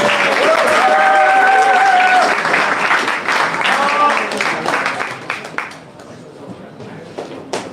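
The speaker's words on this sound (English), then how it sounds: "Can the whole team please come on stage? Let's have a big applause." Big audience applause greets a team coming on stage at a Garage48 hackathon final event in Tashkent, loud clapping with voices and whoops that gradually thins and fades out.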